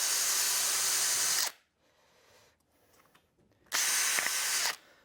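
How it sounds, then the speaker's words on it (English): A power drill bores through a packer while a French door is fitted to a metal insulated panel garden room. Two loud, close whirring bursts are separated by a quiet pause. "I'm just going to drill through a packer"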